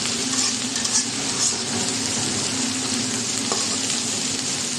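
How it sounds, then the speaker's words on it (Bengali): Onion and dried shrimp fry lightly in hot oil, a dense continuous sizzle and crackle, close and steady, with faint stirring. "একটু হালকাভাবে ভেজে নেব পেঁয়াজ আর গুঁড়া চিংড়ি মাছটা"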